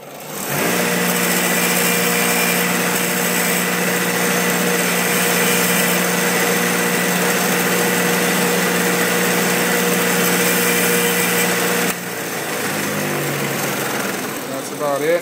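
A bench grinder grinds plastic off Nine Eagles helicopter skids for a Genius CP, a loud, steady motor whine that holds for a long stretch, then shifts in tone near the end.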